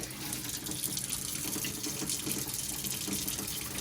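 Boiling water is poured down over a golf grip to shrink it, giving a steady close splashing gush that runs on evenly and unbroken.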